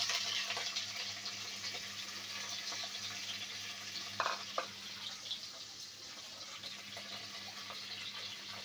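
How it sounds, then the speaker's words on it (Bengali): Jackfruit seeds sizzling in hot oil in a pan, a quiet steady hiss with a couple of brief crackling bursts midway. "এবার দিয়ে দেব প্যানে কাঁঠালের বিচি।"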